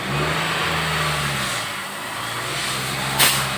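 A car engine with a rough-revving oil fault held at about 2000 rpm, giving a steady mid-pitched drone with a slight dip in the middle and a brief click near the end.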